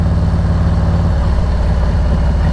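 A truck engine idles in traffic with a loud, steady low rumble and an even throbbing pulse, holding constant from start to finish with no voices over it.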